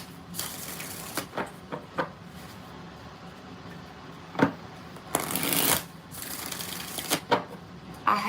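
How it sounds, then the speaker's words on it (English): Tarot cards shuffled by hand at close range, several short riffling bursts with pauses between them, with light talk now and then. "All right, 3 more shuffles."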